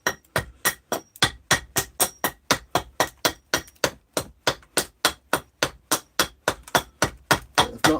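Axe strikes splitting a huge log, about thirty sharp, evenly spaced blows in a steady rhythm, each a crisp crack with a short ring, close and loud with nothing else heard.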